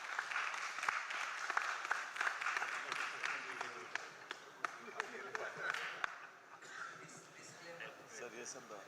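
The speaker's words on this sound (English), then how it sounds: "A big round of applause." Applause from a conference audience in a hall after an endocrinology oration award is presented, clapping under and between spoken announcements from a voice on a PA.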